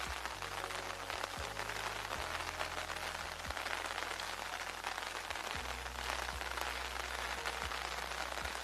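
Video-game rain hisses as steady, dense broadband noise for the whole stretch, with faint low tonal game sounds and occasional sharp ticks mixed in underneath.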